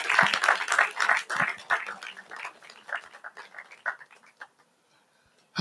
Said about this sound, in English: Can we make that applause a reverberating one?